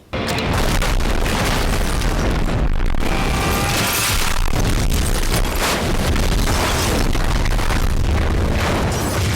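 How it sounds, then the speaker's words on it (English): A house explosion from the action film Bullet to the Head, a sudden loud boom that rolls into a sustained roar of blast debris and rumbling, dense and continuous throughout. "fortunately Stallone has his place wired to blow"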